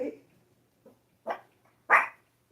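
A dog barks in a quiet room, giving a few short separate barks and a soft whimper, each louder than the one before, with nothing else heard.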